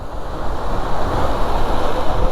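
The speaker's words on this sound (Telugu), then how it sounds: "చూడండి వాటర్ ఫాల్స్ ఇక్కడ కూడా" A mountain waterfall pours in a continuous loud roaring rush, dense and close, with wind buffeting the microphone and no speech.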